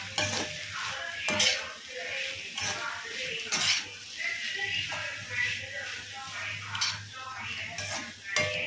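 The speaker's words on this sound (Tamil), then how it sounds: "அவரைக்காய் நல்லா வெந்துருச்சு இப்போ எல்லாத்தையும் சேர்த்து நல்லா கிளறி விட்டுக்கலாம்" Cooked broad beans stirred in a pan, a spatula scraping and tapping in regular strokes over a soft continuous sizzle, close and moderately loud.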